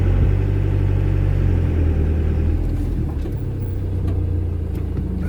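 A vehicle engine runs steadily at close range as the car drives slowly into a small campsite beside a general store, a continuous mid-pitched hum with no voices.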